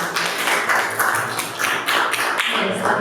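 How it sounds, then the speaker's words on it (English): An event audience claps for a speaker, a close, loose patter of many hands applauding steadily for a few seconds. "can you please clap hands for Kuntai once again?"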